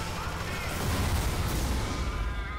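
Sentry gun blown up in the video game Alien Swarm, a loud, dense burst of explosive gunfire and blasts that rumbles continuously throughout.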